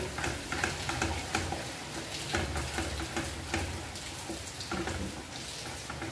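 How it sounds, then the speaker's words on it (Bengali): Chicken roast masala being stirred with tomato ketchup in a pan, a steady soft sizzle with rhythmic scraping strokes of the spoon, close and fairly quiet. "এই সময় আমি মশলার ভিতরে দিয়ে দিচ্ছি টমেটো কেচাপ, ভালো করে মশলার সাথে মাখিয়ে নেব।"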